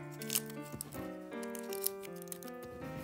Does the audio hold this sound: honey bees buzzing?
no